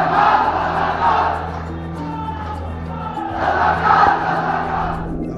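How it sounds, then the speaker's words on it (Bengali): Students at a protest chant slogans as a large crowd, the rhythmic group voices swelling loudly, easing, then rising again in a second surge. "তারা স্লোগান দিতে থাকে, তুমি কে, আমি কে, রাজাকার রাজাকার"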